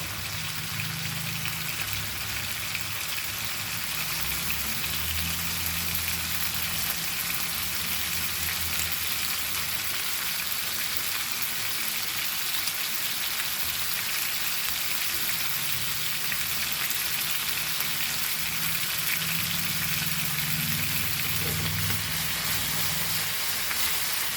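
Oil sizzles and crackles steadily in a frying pan as small silverfish (mandeli) and prawns fry crispy, a dense hiss that continues the whole time with occasional louder spatters.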